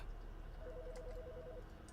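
A phone rings in the Autopsy Simulator video game, a short electronic two-tone trill over a steady hum, repeating rapidly for about a second in the middle and fairly faint.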